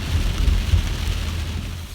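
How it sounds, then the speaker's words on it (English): Steady rain falls around a car out on a food-delivery drive, a continuous close hiss with low rumbling beneath it and no voices. "Okay, the rain is coming down."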